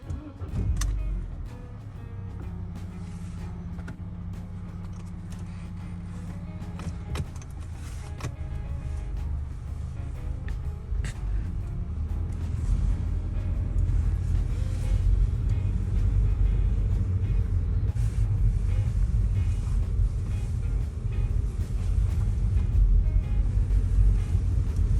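A 2006 Audi A4 B7 on a test drive after an axle shaft replacement, with steady low road rumble and engine drone building over the ride and a brief whirring hum early on.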